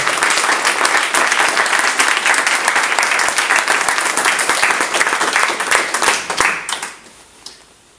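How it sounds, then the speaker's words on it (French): Loud, dense audience applause at a town hall inauguration in Florange, sustained for several seconds before tapering off to a few last claps. "je crois qu'on peut applaudir l'ensemble des services qui ont contribué à ce beau travail"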